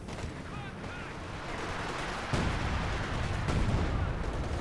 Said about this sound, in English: Looks like one of the Obsassin models to get hit by the artillery.